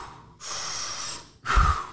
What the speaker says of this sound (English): Big, powerful breaths in through the mouth.